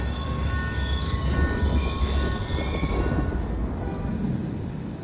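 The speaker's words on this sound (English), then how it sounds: "Ain't getting anything else with that train in the way." A train in the Call of Duty Black Ops 2 campaign rumbles past close by, a steady low roar of railcars with high metallic wheel squeal and a rising screech toward the end.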